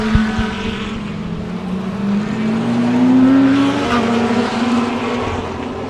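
Lamborghini and Porsche race cars pass on a circuit at Dezzi Raceway, a loud engine note climbing in pitch as it sweeps by, with a sharp tone near the middle and a steady roar throughout.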